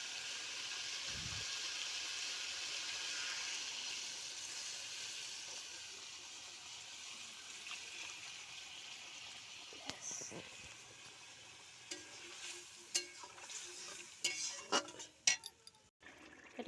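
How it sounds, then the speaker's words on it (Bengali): Water poured into a pan of frying poppy seed paste with green chillies, a steady broad hiss and pour that gives way to scattered clicks and spoon taps near the end. "এবারে দিয়ে দেবো জল।"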